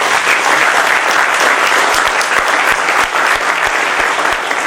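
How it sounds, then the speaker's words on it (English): Dense, steady applause from an audience at a business school talk at MDI in India, loud and continuous with no voices standing out above the clapping. "give him a round of applause"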